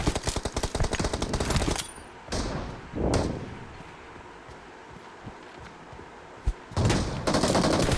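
Gunfire from the mobile battle royale game BGMI comes in loud, rapid automatic bursts, then several single heavy shots and a lone sharp crack, before another dense burst closes it out.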